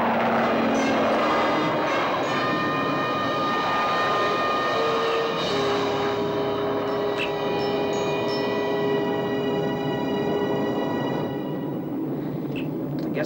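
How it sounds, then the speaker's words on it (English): A science-fiction spacecraft launches in a TV sound effect, a loud, steady roar with rising and shifting whining tones that carries on throughout without any talk. "All right, Ergo, prepare for takeoff."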